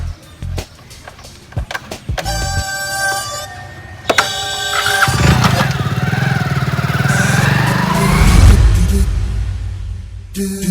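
A motorcycle engine cranks with a few mechanical clicks and whirs, then catches and runs as a steady, loud, close idle that swells once, with a ringing tone early on and no talk.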